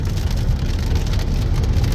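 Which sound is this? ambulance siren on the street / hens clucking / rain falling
rain falling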